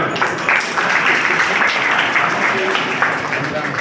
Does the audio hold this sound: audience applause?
yes